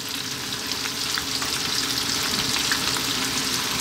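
Carrots and potatoes fry in a soup pot, giving a continuous, fairly loud crackling sizzle with bright spitting pops over steady hiss, with no one talking.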